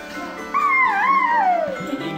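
A dog gives one long, wavering, rising-and-falling howl close by, heard alone after a short quiet start.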